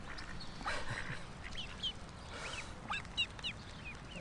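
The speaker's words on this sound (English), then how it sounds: "Oh, they're adorable, eh? Lovely little birds." Ducks quack in short bursts and scattered calls at close to moderate distance over a faint outdoor background hiss, with no talking.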